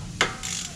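A ratchet undoing a 10mm brake hose bolt on a Brembo-equipped Hyundai Genesis caliper makes a single sharp metallic click followed by a brief rasp, moderately close and fairly quiet.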